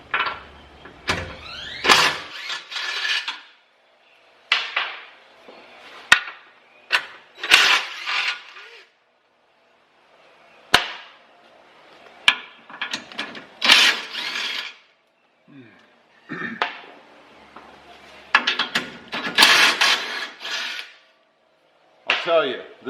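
A power tool fitted with a 17mm socket spins out skid plate bolts on a 2020 Toyota Tacoma TRD Off-Road, giving repeated sharp whirring bursts separated by short pauses and clanks.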